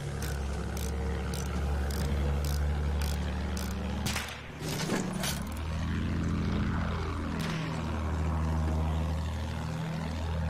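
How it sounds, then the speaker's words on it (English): A bomber aircraft in a combat video game drones loudly and continuously overhead, its propeller roar sweeping and shifting as it passes. "Bomber, bomber, up. Bomber, da oben."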